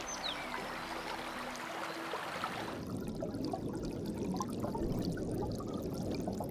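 Brook water flows and trickles in a steady, soft wash that grows a little fuller and more turbulent partway through, faint and continuous, with no voices.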